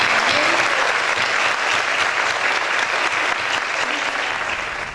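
Loud, sustained applause from an audience at a book presentation, dense clapping throughout that eases slightly at the end.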